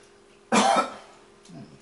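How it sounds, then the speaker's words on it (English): One sharp, close cough bursts out loudly, followed by a fainter throat sound a moment later, otherwise quiet. "Excuse me for that cough."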